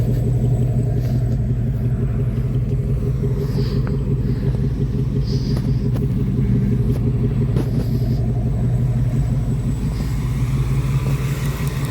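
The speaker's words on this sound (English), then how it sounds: "I'll rev it a couple times too." A 1971 Chevy Camaro V8 with an Edelbrock carburetor idles with a deep, steady rumble and a lumpy rhythm, close by, with only mild revving swells.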